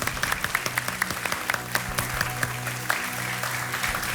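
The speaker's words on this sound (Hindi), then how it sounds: "तालियों के साथ आपका स्वागत।" A studio audience on the KBC quiz show applauds to welcome guests, steady clapping from a large crowd that stays fairly even throughout, with faint voices underneath.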